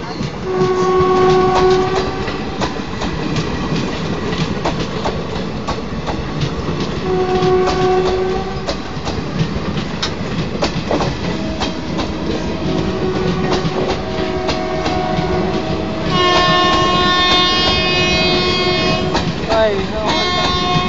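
An Indian Railways CNB WAP4 electric locomotive hauling the Ajmer Sealdah Express passes close by, with loud, steady wheel rumble and rail clatter, repeated horn blasts through the pass, and a long, sustained horn near the end.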